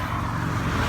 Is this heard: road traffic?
yes